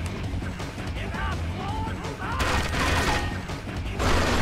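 Gunfire in the spy shooter 007: Agent Under Fire, a steady busy stream of shots and game effects running throughout under players talking, growing louder toward the end.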